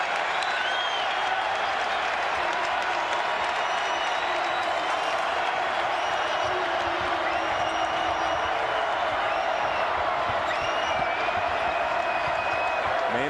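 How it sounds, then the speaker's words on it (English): Basketball arena crowd at a Marquette vs Wisconsin game cheering and applauding after a big three-pointer, a dense steady roar filling the whole stretch with scattered whistles and whoops. "This crowd's into it."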